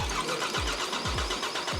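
A car engine cranks over with its fuel supply cut off so it cannot start, the starter turning it in a steady, rhythmic whirr of repeated compression pulses, close and fairly loud.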